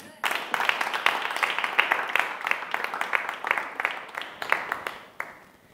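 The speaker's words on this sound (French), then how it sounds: "on les acclame" Steady, close applause from an audience cheering two singers on stage at a gospel concert, dense clapping throughout before it drops off at the end.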